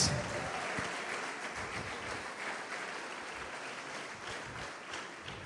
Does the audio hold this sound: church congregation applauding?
yes